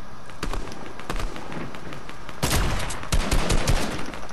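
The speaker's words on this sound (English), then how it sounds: "I'm gonna snipe some people." Shots from a sniper rifle in Fortnite: a series of sharp cracks scattered across a few seconds, with a louder cluster of close, punchy reports and echoing bursts toward the end.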